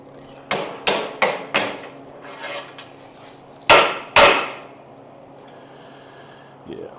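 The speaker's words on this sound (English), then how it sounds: "let's give this a little hammer love" Hammer blows on a metal roll bar for an off-road buggy build: four quick ringing strikes, a pause, then two heavier hits, close and loud with a faint hum underneath.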